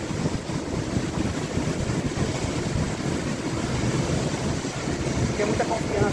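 Strong, steady wind from a giant fan roars continuously around a hovering DJI Mini 2 drone, a loud broadband rush with no pauses and no clear speech over it.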